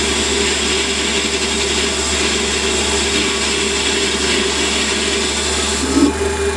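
Continuous whirring of a machine cutting away metal while a threaded adaptor is made, a steady loud mechanical hum with a brief knock near the end and no talk.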